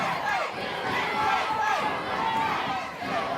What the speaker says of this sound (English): Those USA chants echoing throughout the Ellen Lockhart gym